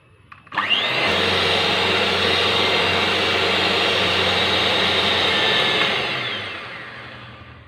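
An electric beater whisks eggs and sugar for a vanilla sponge cake, starting with a click and rising into a loud, steady whir that holds for about five seconds before winding down and fading away.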